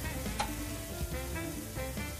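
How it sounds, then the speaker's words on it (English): Chicken seasoned with black, red and green pepper sizzling on a hot grill over a fire, a steady close crackling hiss with a few sharper pops and a scrape or two. "As you can hear, the grill is sizzling, so the fire is at the right heat."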